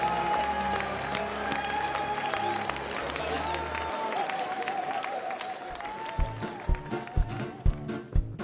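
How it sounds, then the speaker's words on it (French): Concert hall audience applauding an introduced singer, dense steady clapping throughout with a low hum early on, then rhythmic unison claps emerging near the end. "je vous demande d'applaudir."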